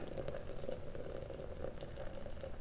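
A kettle of water heats to a boil for coffee, giving a quiet, steady bubbling and light crackling that carries on evenly for a few seconds.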